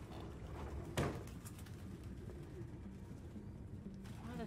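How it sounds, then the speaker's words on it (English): Pigeons cooing in the video game Detroit: Become Human, soft repeated coos over a low ambient bed with a sharp flutter or burst early on, fairly faint. "Why are there so many pigeons?"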